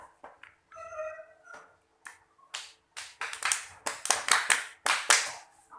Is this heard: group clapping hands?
yes